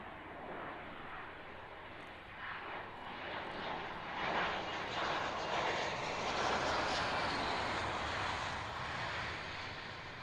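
A Dassault Rafale fighter jet in special 3,000-hour paint gives a steady, broad, distant roar that swells slightly midway and holds without a break.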